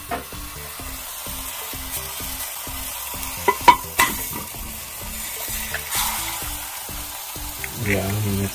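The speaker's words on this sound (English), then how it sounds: "I'm sure if I put an egg on here, it will cook pretty quick." An egg cooks on a Techwood 1500W portable electric hot plate, giving a steady close sizzle with light scraping and a few sharp clicks and taps.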